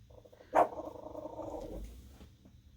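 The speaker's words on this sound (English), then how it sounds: "Somebody's walking by the house. The dog is not happy." A house dog gives a single sharp bark followed by a low, rumbling growl as someone walks past the house, close and fairly loud against a quiet indoor background.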